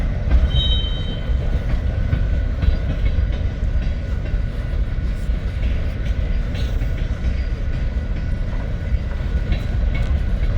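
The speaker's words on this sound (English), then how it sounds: "You can hear him slowly picking up speed. The rear DPU is coming." A freight train with a rear DPU locomotive slowly gathers speed nearby, its wheels clattering and rumbling loudly and steadily throughout, with a brief high squeal near the start.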